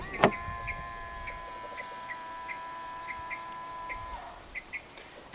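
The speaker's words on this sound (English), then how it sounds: "To lock the car, press the indentation on any of the 4 door handles." A 2022 Volkswagen Passat 2.0 TSI R-Line locks through its keyless door handle: a sharp click, then a steady electric whir of mirrors or windows folding with a regular ticking, ending in a few soft clunks near the car.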